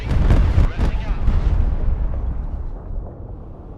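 A-10 airstrike explosions in the war video game Broken Arrow: several loud, close booms in quick succession, then a deep rumble that fades away.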